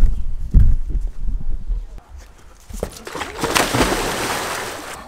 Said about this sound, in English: Jumping into water is the best way, my favourite way to end a hot ride.